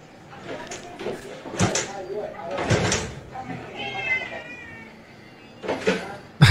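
A cat meows a few times amid bursts of sound and shuffling, with people talking nearby.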